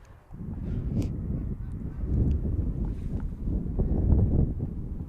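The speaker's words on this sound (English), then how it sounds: "Very windy. Wind is picking up." Steady wind buffeting and roaring in low gusts at an outdoor football game, loud and continuous, with rumbling surges throughout and no voices.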